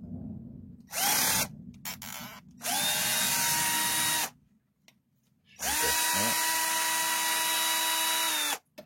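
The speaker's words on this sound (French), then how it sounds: "on va se faire ça à la visseuse" Cordless power screwdriver driving and backing out screws on a Losi Promoto MX pocket bike, three loud motor bursts with rising whine, the last one long and sustained, separated by quiet gaps.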